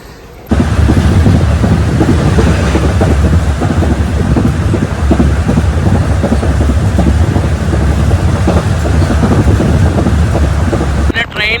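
Loud, continuous rumble and rattle of a train running on rails toward Rameswaram near Pamban, steady from start to finish with wind buffeting the microphone.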